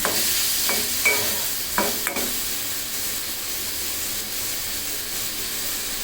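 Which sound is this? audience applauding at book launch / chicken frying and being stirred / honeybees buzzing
chicken frying and being stirred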